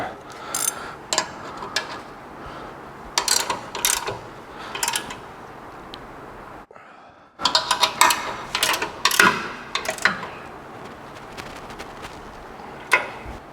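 Ratchet tightening the main bracket bolts on a BRBN Off-Road 3-Way 2.8 Series coilover during a Ford install, heard as repeated bursts of rapid clicking separated by short pauses, close and fairly loud, with a brief silent gap midway.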